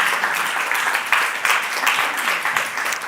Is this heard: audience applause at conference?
yes